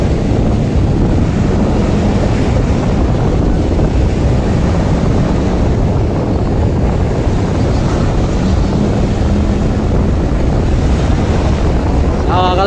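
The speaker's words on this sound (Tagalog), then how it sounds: "Lalaki po ng alon." Wind and surging ocean waves roar steadily around a racing boat at a bancarera regatta, a dense, unbroken rush of water and gusts buffeting the microphone throughout.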